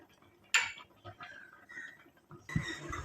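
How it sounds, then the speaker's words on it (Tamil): Lid placed onto a container of hair dye powder: two sharp clinks of a lid against the pot, a faint scrape between them, quiet and close with no talking. "இப்போ ஒரு மூடியை போட்டு மூடி வச்சிடலாம்"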